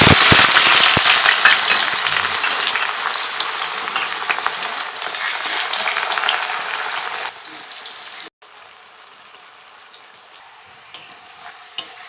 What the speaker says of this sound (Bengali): আমার পেঁয়াজ অলরেডি প্রায় ভাজা হয়ে গিয়েছে